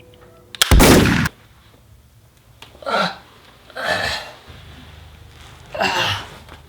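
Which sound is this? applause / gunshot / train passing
gunshot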